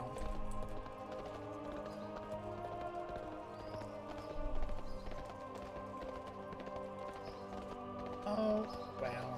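Steady hoofbeats clip-clop along with a layered musical backdrop in the video game World of Warcraft, the horse's footfalls blending into a busy, continuous game soundscape.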